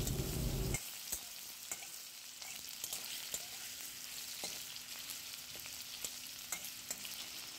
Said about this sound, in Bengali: প্রথমে আলুর টুকরোগুলো দিয়ে দেওয়া হলো, আলুটা হালকা ভাজা হলে বাকি সবজিগুলো তারপর দেওয়া হবে।